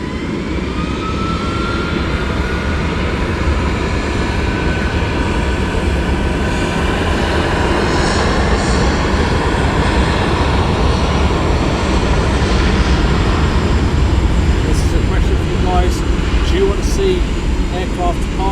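A Boeing 757 at East Midlands Airport gives a broad, steady jet roar that swells slightly toward the end, heard from a distance with a voice talking over it.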